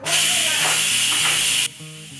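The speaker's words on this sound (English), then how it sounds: "we're going to release the pressure" Steam blasts loudly from a pressure cooker after rice has finished cooking, a continuous rushing hiss that cuts off abruptly near the end.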